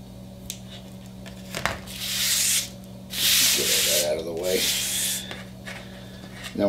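Scraping and rubbing as braided shielding and foil are cut away from a cable end, in uneven stretches of about a second, close up over a steady low hum, with a faint voice underneath.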